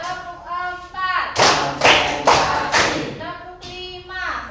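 In a classroom clapping game, children chant in unison, then strike about five loud, sharp group claps in a quick rhythmic burst, before their voices pick up again, close and clear.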